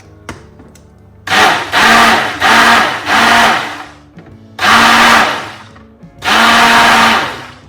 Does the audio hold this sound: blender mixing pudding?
yes